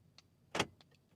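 A car being locked with its key fob button: one short, sharp burst stands out over a quiet background, with a few faint small sounds before and after.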